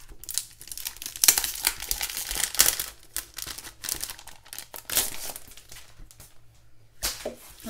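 Plastic packaging for a Happy Planner dashboard sticker pack crinkles and tears open up close, a run of irregular crackly bursts with brief pauses, loud and busy throughout with no talking.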